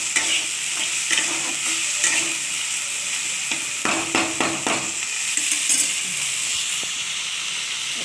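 Spice paste frying in a pan with a little salt added, a steady close sizzle and hiss broken by repeated scraping stirs, with no talking.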